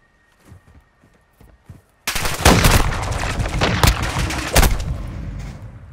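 Gunfire in Modern Warfare 2 gun game mode: a few soft scattered sounds, then a sudden loud burst of rapid shots with heavy booming impacts that keeps crackling for several seconds.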